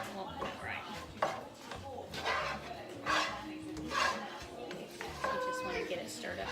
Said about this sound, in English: You just want to get it stirred up really well.